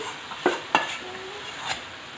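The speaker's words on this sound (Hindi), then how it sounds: "अब खोए को इसमें मिक्स कर लेते हैं।" Homemade khoya is stirred into carrot halwa in a pan with a few close spoon scrapes and clinks over a soft sizzle, and nobody speaks.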